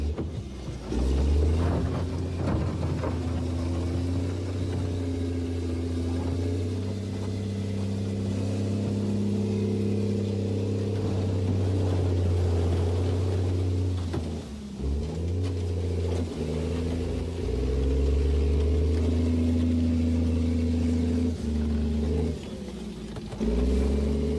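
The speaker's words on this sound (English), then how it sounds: "The Royal Engineer CET Combat Engineering Tractor is the bulldozer for the job." A Royal Engineer CET Combat Engineering Tractor, an army bulldozer, runs with a deep, loud diesel rumble that holds steady and shifts pitch slightly as it works, close by and alone throughout.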